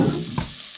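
Garlic hits melted butter in a pan for a cream, ham and mushroom pasta sauce and sizzles briefly, a soft, close frying hiss with a light stir.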